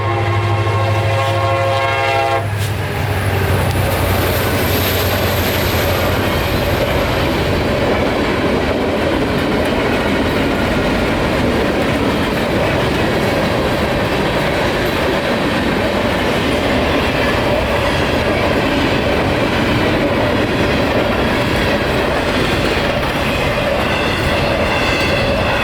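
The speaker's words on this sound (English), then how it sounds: "the engineer had these EMDs wide open through this old town" Freight train 046 roars past under EMD diesel locomotives at full throttle through an old Florida town, opening with a blaring horn over heavy engine rumble, then a loud, sustained wash of rolling cars and rail clatter up close.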